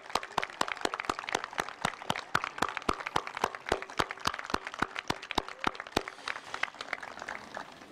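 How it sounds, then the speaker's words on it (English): Crowd applauding veterans at a Veterans Day parade in Somers, New York, steady clapping with sharp individual claps throughout, moderately loud and continuous. "So can we please give them all a round of applause right now?"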